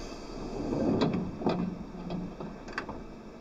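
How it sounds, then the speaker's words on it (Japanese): Train doors closing at a platform in a Yamanote Line train simulator game on PlayStation 2, heard as a few soft, brief thuds and clicks at moderate loudness over a steady background hum. "2番線ドアが閉まります。"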